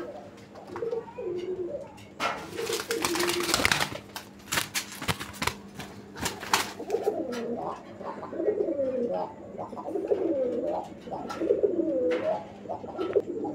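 Pigeons of the Raj-Golla and large Boro-Payra breeds coo repeatedly at close range, rolling throaty calls rising and falling over a steady hum, with clattering bursts early on.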